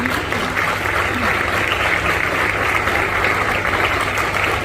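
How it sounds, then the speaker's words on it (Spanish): An audience at a police homage ceremony applauds steadily for a National Police commander, a dense, even wash of clapping from a crowd throughout. "a quien premiamos con ese fuerte aplauso."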